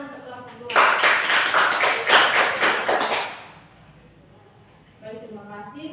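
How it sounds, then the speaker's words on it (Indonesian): A classroom group receives applause during a student presentation session, a burst of dense clapping lasting about three seconds before fading, with voices speaking before and after. "Tepuk tangan untuk kelompok 2."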